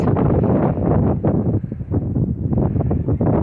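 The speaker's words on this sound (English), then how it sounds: "It is windy" Loud wind buffets the microphone in a garden among fruit trees, heavy, uneven gusts, a low roaring rumble with brief dips, no voices.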